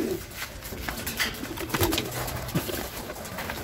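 Pigeons coo softly while being herded into their coop, giving a few low, throaty calls against light background rustling at moderate distance.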